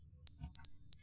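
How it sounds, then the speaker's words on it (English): Electronic beeping inside a video game: three short, steady high-pitched tones in close succession, fairly quiet, with no talking. "What is that beeping? That is concerning beeping."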